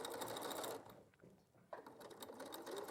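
A sewing machine stitching a curved seam at roughly a 2.2 mm stitch length with a quarter-inch seam allowance, a close steady mechanical whir that pauses briefly midway before resuming.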